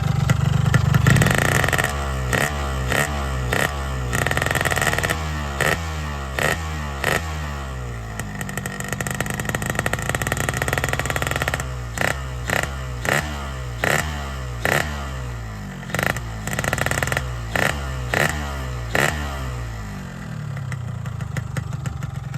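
A 1993 Yamaha RX King Kobra two-stroke motorcycle engine idling and revving repeatedly, sharp throttle blips rising and falling in a rhythmic series with steady idle between bursts. Close and loud, with no talking.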